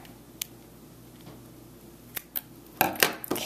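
Scissors snipping thin plastic coffee straws while making doll menus and signs, a few crisp, close cuts spaced apart and then quicker clustered snips near the end, with quiet handling in between.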